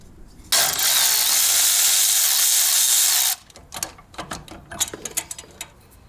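A power cutting tool slices a pipe flange on a turbo K24 Nissan Cefiro build, a loud continuous high-pitched grinding whine lasting about three seconds, followed by clanking and metallic handling noises.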